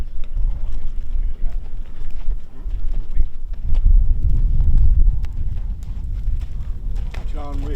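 Stunt horses in training at Aqaba for a John Wick action film give off loud, close hoof clatter and movement beneath continuous talk, with a brief whinny-like cry near the end.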